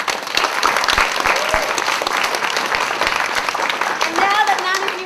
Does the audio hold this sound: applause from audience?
yes